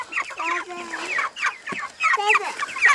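Cornish cross chickens cluck and squawk close by in a busy, overlapping chatter of short calls and rising squeals, with only light background noise.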